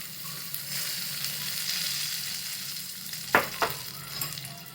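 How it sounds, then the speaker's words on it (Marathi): Hot ghee poured into maida flour seasoned with black pepper and salt for savoury shankarpali, giving a steady close sizzle and hiss with a couple of sharp crackling pops near the end. "आता तूप झाले गरम बघा आता हे कडकडीत मोहन याच्यामध्ये टाकून घेतो"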